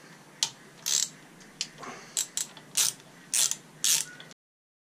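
A ratchet clicks in short bursts while screws are backed out during the dismantling of an engine's ignition section, with about eight crisp, close ratcheting strokes separated by brief pauses.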